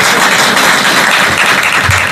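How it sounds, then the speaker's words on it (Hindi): Audience applause welcoming a contestant named Ramphal from Haryana on a parody Kaun Banega Crorepati quiz show, a steady dense wash of clapping that holds loudly and evenly throughout. "रामफल के लिए जोरदार तालियों से स्वागत कीजिए"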